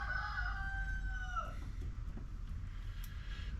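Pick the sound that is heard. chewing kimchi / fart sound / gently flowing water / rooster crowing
rooster crowing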